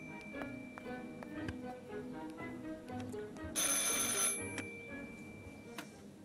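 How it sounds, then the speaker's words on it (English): A telephone rings in the video game Martha Is Dead, a bright, loud ringing burst that stands out midway through a quieter stretch of room sound with scattered clicks. "I should pick up the phone but remain silent."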